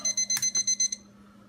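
A digital cooking thermometer alarm on a roasting turkey beeps seven times in a quick, even rhythm, then stops, fairly faint over a low steady hum.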